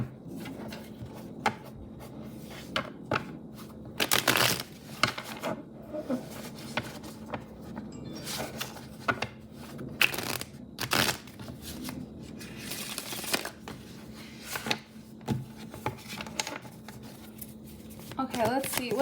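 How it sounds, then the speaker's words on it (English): Tarot cards are shuffled in quiet, scattered bursts of riffling and rubbing, soft and close, with brief pauses between the clusters of card noise. "let's shuffle the cards."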